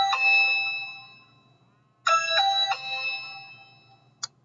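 A doorbell rings in a closed office, a bright multi-tone chime repeated twice in clear, close bursts, with a short click at the end and no talk.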